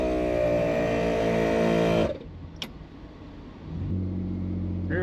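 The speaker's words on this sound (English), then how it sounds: "we're driving around town, 40, 45 mile an hour" A Jeep with a rear locker drives around town at 40 to 45 mph, its engine a loud, steady drone that drops off abruptly midway, then a quieter rumble returns and builds.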